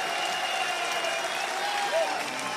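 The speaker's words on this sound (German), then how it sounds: "hätte ich ganz gerne einen Applaus für beide Kämpfer für einen großen Kampf" An audience at an MMA event applauds both fighters with a steady wash of clapping and crowd noise, a short burst with an announcer's voice over it.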